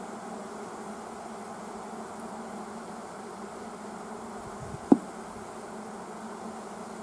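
Honey bees buzzing around a ball of bees in a hive during a queen check, a steady, faint drone throughout with one brief sharp knock near the end.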